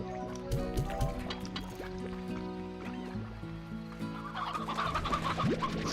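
Chickens in the video game Slime Rancher cluck and chirp in short repeated calls over steady game music and a liquid, bubbling background, fairly quiet.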